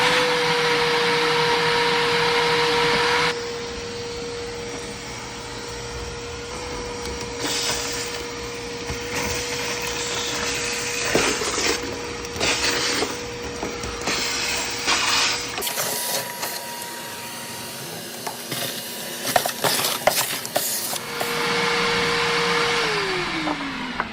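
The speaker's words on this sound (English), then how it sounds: "Let's go get the shop vac and clean that out first," A shop vac drones loudly while sucking junk out of an air conditioning unit, a steady motor whine broken by rattling debris and hose knocks, with the pitch shifting as airflow changes.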